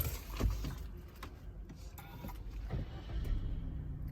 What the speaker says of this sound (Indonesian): kemudian saya nyalakan mobilnya